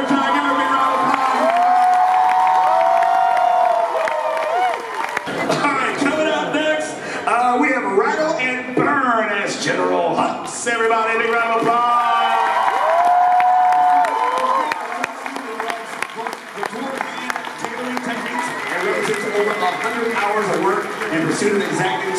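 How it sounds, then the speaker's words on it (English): An audience at the New York Comic Con 2016 cosplay championship applauds and cheers loudly, with whoops and sustained clapping, while an announcer's amplified voice talks over the crowd. "give everybody a round of applause"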